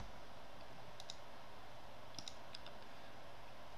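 A few light computer mouse clicks on a symbol while formatting a table in InDesign, faint and separate, in pairs over a quiet room hum.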